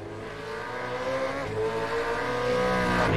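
Supercars in the iRacing video game brake and sweep through a corner at Tsukuba Circuit, engines droning at high revs with pitch sliding down then climbing again, a brief tire squeal mixed in, loud and continuous.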